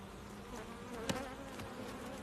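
Honeybees at an open hive buzzing steadily while being sprayed with oxalic acid against varroa mites, a dense close drone with a brief spray hiss in the middle.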